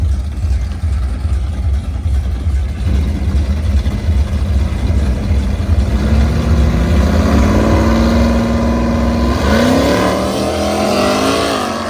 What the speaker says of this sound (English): Sturgeon County, 67 Chevy Camaro, sitting in the overdrive lane.